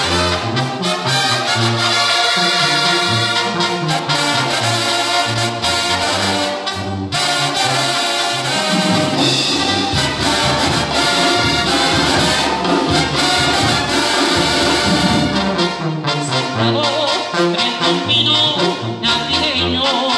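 A banda ensemble plays a song, a full, loud, continuous mix of brass, percussion and driving rhythm with no pauses throughout.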